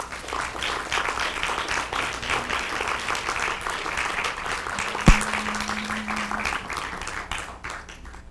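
Sustained audience applause fills a hall as a council member is welcomed to the podium at a political talk, steady and fairly loud throughout with one sharp louder clap near the middle, no voices over it.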